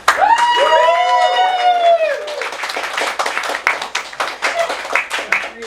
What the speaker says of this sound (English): Could we get a round of applause